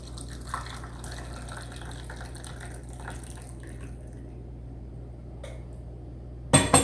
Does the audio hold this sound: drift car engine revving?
no